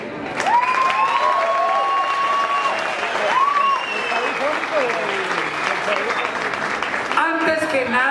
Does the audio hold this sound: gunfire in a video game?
no